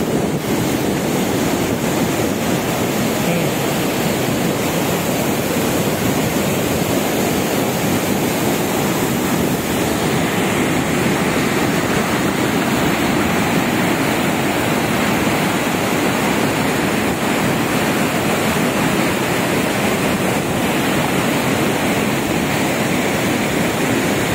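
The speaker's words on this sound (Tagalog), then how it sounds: "Maingay yung tubig." Steady, loud rush of water falling at Aliwagwag Falls fills the whole stretch without a break, a constant roaring wash with some wind buffeting the microphone.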